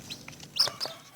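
Chicks clucking, a few short bright peeping calls close by, the two strongest coming just past the middle over a quiet background.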